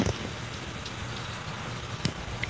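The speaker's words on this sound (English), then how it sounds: "It's raining." Light rain falls in the woods, a faint, steady patter of drops with a few sharper ticks scattered through it and nobody talking.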